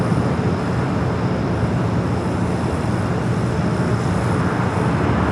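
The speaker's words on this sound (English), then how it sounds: "Number 2 for takeoff, a flight heading to Chicago here." An American Airlines Boeing 737-800 takes off at LAX, its engines giving a loud, steady broadband roar that holds without a break for about five seconds. No voices are heard.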